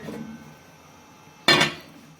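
A lid is set down onto a pot of achari chana pulao, giving one sharp metallic clank with a brief ring after a quiet kitchen stretch.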